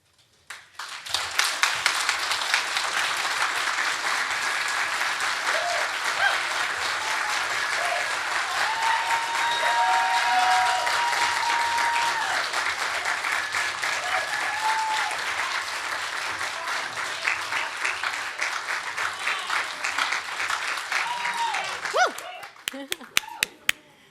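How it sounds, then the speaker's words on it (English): Audience at a Black History Month celebration giving sustained applause, a full, even roar of many hands clapping for over twenty seconds with faint cheers, tapering into a few scattered claps at the end. "Let's give them another round of applause."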